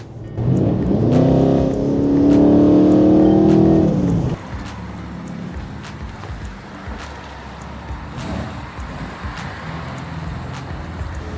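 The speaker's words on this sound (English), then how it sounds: "Listen to this exhaust." A Mercedes E63 with a Stage 2 modified exhaust revs hard with a loud, raspy roar for a few seconds, then settles into a lower rumbling idle.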